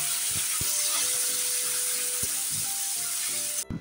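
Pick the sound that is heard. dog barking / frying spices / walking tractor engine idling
frying spices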